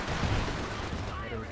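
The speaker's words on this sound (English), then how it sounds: "MG's firing." Sustained automatic machine gun fire in the World War II strategy game Company of Heroes 2, steady bursts of rattling shots mixed with distant battle noise, with a voice talking over it.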